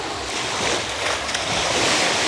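Sea waves wash steadily onto Slavic Beach in Budva, Montenegro, a continuous broad surf roar with some wind buffeting the microphone and no voices.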